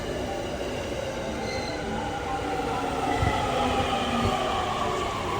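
A long train in Japan rolls past with a steady rumble and a whining, squealing metallic note, plus a couple of thuds from the wheels, heard fairly close.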